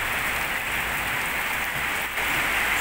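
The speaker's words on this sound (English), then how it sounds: "People getting out from the rain." Steady rain drums on an awning sheltering travelers during a downpour at Khmer New Year, an even, close hiss of countless drops with no break in its rhythm.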